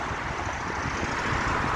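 Steady broadband wind rush and microphone buffeting during a bike ride through the woods on Long Island, continuous and fairly loud with no talking.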